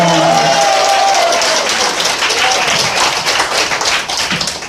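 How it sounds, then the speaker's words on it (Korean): Audience applause at a political rally announcing a party leader's candidacy for a Seoul district mayoral by-election, loud, dense crowd clapping filling the whole stretch, tapering slightly toward the end. "박수 한번 하겠습니다."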